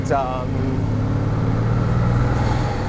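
A 2015 Bugatti Veyron Grand Sport Vitesse running its quad-turbo engine, a steady loud rumble with a brief rising whine at the start, while someone talks over it throughout.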